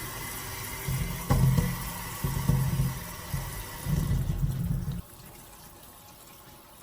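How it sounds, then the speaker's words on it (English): Cold tap water runs over muscadine grapes in a strainer in a small kitchen sink, a steady splashing rush with a few surges before the flow stops, leaving quiet room tone. "wash them with a strainer under some cold water"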